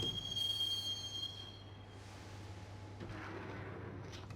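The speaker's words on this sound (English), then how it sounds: "the train doors had already shut behind me, and I was in for the ride" A subway train rides along in the Max Payne video game, a faint, steady low rumble with a thin high whine that fades after the first couple of seconds.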